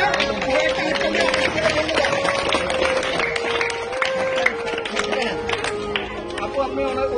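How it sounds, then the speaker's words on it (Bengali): Underprivileged children clapping together in a group, dense scattered hand claps mixed with lively chatter and voices throughout. "সবাই একটা হাততালি দিয়ে"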